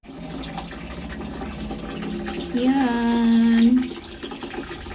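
Tap water runs steadily into a plastic bucket, a rising, filling tone swelling for about a second near the middle, with a person speaking briefly over it.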